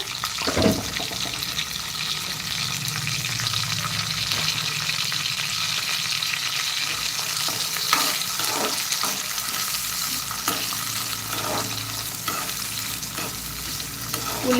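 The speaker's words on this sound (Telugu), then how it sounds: "ఉల్లిపాయలు లైట్ గోల్డెన్ బ్రౌన్ కలర్ వచ్చేంత వరకు ఫ్రై చేసుకోవాలి" Finely chopped onions frying with curry leaves in a pan for mutton fry, a loud, steady sizzle with repeated scraping stirs and clanks of the spoon against the pan throughout.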